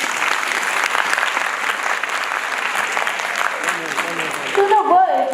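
Loud, sustained audience applause fills a school annual function at Anand Bal Vidya Mandir, a dense steady clatter of many hands that carries on throughout, with a voice beginning to speak over it near the end.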